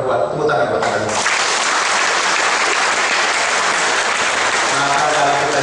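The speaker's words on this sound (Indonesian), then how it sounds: "Tepuk tangan buat Anda semua." A seminar audience breaks into sustained applause during a motivational talk. A voice briefly overlaps the start before dense, loud clapping from many people carries on steadily to the end.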